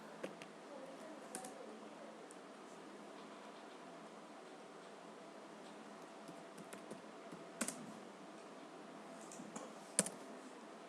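Quiet typing of a tweet on a computer keyboard, soft continuous key clicks with a few sharper taps, faint against a steady background hiss.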